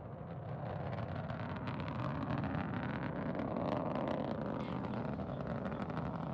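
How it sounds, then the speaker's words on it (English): Soyuz rocket lifting off from Baikonur carrying the Progress 83 cargo ship to the International Space Station, a steady, loud, broadband roar with crackling texture that holds for several seconds without pause. "Liftoff of Progress 83, the next vehicle in the supply chain to the International Space Station"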